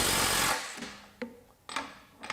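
Makita XWT17 cordless mid-torque impact wrench tightening, starting with a loud rapid hammering burst that stops, then several short separate bursts of impacts with quiet gaps between them.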